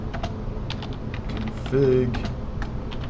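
Quick clicking keystrokes on a computer keyboard as a command is typed, close and fairly steady, with a brief spoken word partway through.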